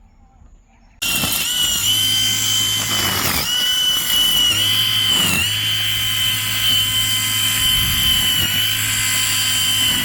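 A Narion 21V cordless string trimmer with a nylon line cuts grass and lawn around fruit trees, starting abruptly and whining steadily up close, its pitch dipping briefly a few times as the line bites into the growth.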